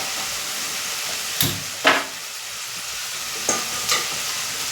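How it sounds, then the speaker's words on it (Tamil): Curry leaves, onion, green and dried red chillies sizzle steadily in a hot pan while a spatula scrapes and stirs them in a few sharp strokes, close and alone with no talk. "கருவேப்பிலை போட்டு வதக்கிக்கலாம்."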